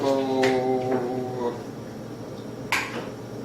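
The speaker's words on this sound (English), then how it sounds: "This is a nice, big, heavy Dutch oven" A big, heavy Dutch oven pot is handled on a kitchen stove, giving two or three short metallic knocks and scrapes, the loudest near the end, partly under a talking voice at the start.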